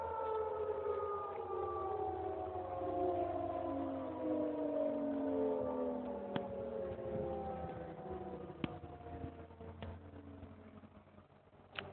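Tornado civil defense siren during a January test, its long wail sliding slowly downward in pitch as it winds down, heard from a distance and steady throughout, with a few faint knocks near the end and no voices.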